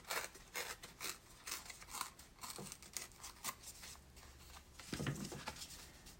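Paper being torn by hand for a pumpkin-themed craft, a run of close, quiet ripping and tearing strokes in short bursts, with a louder rip near the end and no talk.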